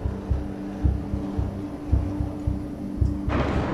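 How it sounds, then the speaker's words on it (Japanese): A low, steady heartbeat pulses in the video game INSIDE, its soft thuds repeating at an even rhythm under a faint hum, with a brief hiss rising near the end. "なんか心臓の鼓動のような"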